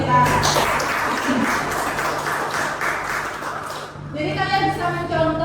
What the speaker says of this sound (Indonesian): Jadi tepuk tangan untuk Mbak Fira